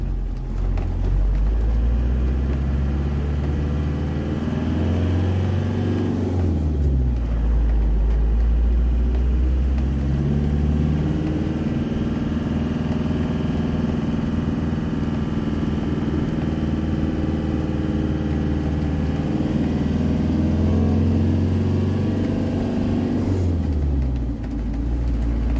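A car engine drives along a road near the Lithuania–Belarus border, a loud, steady close rumble that rises and falls with changes in revs for the whole stretch, with no voices.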